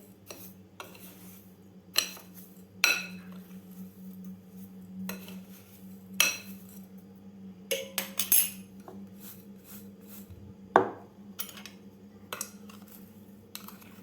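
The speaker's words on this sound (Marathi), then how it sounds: "साखर घातल्यानंतर व्यवस्थित आपल्याला मिक्स करून घ्यायची आहे साखर हलक्या हाताने आपल्याला हलवून घ्यायचं आहे" A spoon stirs sugar into amla (gooseberry) pieces in a bowl, giving scattered metallic clinks and scrapes at irregular intervals over a low steady background hum.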